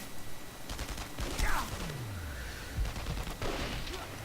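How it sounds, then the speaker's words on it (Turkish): Sniper rifle shots in the Enemy Front video game: a few sharp reports spaced a second or more apart, mixed with sweeping whooshes and steady game background noise. "nişancı tüfeğimle o elemanları öldüreceğim."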